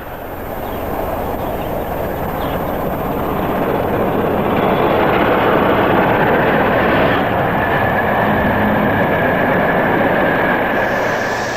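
A Peak class diesel locomotive on a return run near Copmanthorpe, York roars past nearby. Its heavy engine rumble swells steadily and stays loud for about twelve seconds, with no voices.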